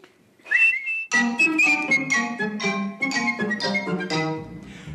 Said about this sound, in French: tu n'auras qu'à siffler pour m'appeler, et je viendrai te donner conseil